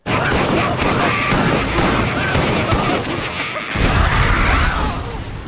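Dense, loud gunfire and explosive booms from the anime film Dead Leaves, a continuous barrage of rapid shots and crashes with no pauses.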